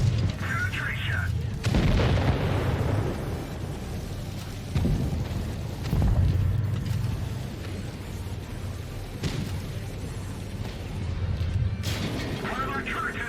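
Heavy booms of tank guns and shell impacts in the mobile tank game WoT Blitz, several loud thuds spread across the stretch over a constant engine rumble, with a voice speaking at times.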